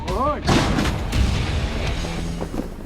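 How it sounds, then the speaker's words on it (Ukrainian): A heavy boom like a gunshot or artillery blast, with a deep rumbling tail and music or voices mixed underneath. "Постріл!"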